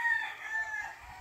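A rooster crows in one drawn-out call at a farmyard where gallino and yellow fighting roosters are kept, heard alone and fairly faint at a moderate distance.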